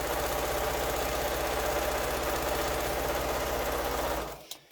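A sewing machine runs steadily while stitching quilt pieces together, a loud continuous mechanical whir with fine rhythmic needle chatter that stops abruptly just before the end.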